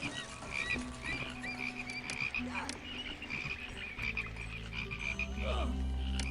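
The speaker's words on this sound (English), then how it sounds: "He's sending frogs again at us here." A plague of frogs in the Pharaoh city-building game, with dense overlapping croaking that keeps going throughout and rises in a rumbling swell near the end, playing alone with no voices.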